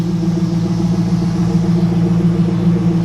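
An orange 2001 Pontiac Trans Am NHRA Edition with the WS6 engine idles smoothly and steadily, a loud close-up low rumble with no voices over it.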